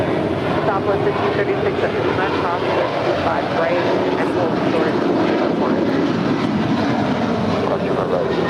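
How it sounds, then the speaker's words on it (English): United Airlines Boeing 737-900ER jet departing LAX: a loud, continuous broadband jet roar with wind-like rush that holds steady throughout, with a voice talking over it. "Our next departure is United Airlines flight 1946 heading to Houston, Texas. It's a 737-900ER."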